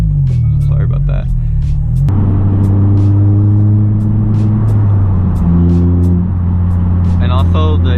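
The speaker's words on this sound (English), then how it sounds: "the hybrid racing intake, holy crap, it sounds so good. It literally sounds like it's spooling up" Honda Civic Si's K24 engine with a Hybrid Racing intake revs through the gears from inside the car, a loud droning tone with stepping harmonics and a whooshing intake note, with someone talking over it.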